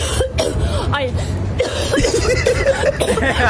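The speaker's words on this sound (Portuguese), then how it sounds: "É a tossida." A short throat-clearing cough bursts out over a noisy background, followed by chuckling and mixed voices close by.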